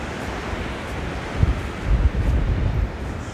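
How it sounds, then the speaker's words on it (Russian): Wind gusting at a seashore in Anapa, a steady broadband rush with stronger buffeting bursts low in the mix and a faint wash of surf underneath, no voices. "Ветерок у нас подул, вот сейчас он дует вот оттуда"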